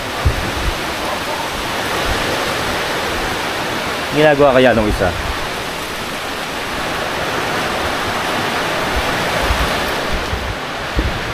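Heavy rain drums steadily on a sheltered house, a loud, unbroken wash of noise that fills the whole stretch, with a person speaking briefly over it partway through.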